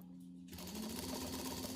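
A sewing machine stitches the sides of a small fabric cosmetics pouch with a backstitch, starting after a brief quiet pause into a steady close rapid whirring hum for a moment.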